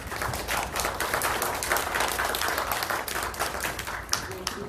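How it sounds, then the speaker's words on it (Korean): An audience at a mental health public awareness lecture applauds to welcome a professor, with steady, moderately distant clapping running throughout. "큰 박수로 맞아주세요"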